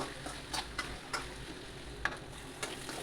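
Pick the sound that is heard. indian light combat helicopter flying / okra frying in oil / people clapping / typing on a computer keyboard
okra frying in oil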